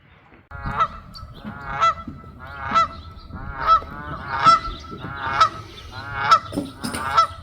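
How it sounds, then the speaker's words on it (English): A steady run of loud goose honks, roughly one per second, close by, over a low rumbling background. "Those geese are very loud."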